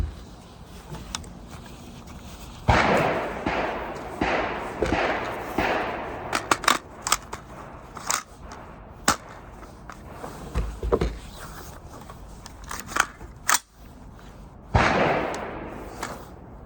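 Rounds fired at a silhouette target on a shooting range with a red dot sight, sharp loud cracks scattered irregularly, some single and some in quick bursts, with echoing tails between shots.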